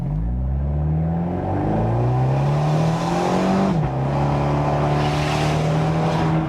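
A 2017 Abarth 124 Spider's 170 hp engine in sport mode revs hard under acceleration, pitch climbing steadily, then briefly dropping at a gear shift before climbing again, loud and close throughout.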